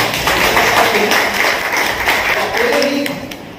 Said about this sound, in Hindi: इम्तियाज़ साहब के लिए हमें जोरदार तालियां भरा जरूर बजानी चाहिए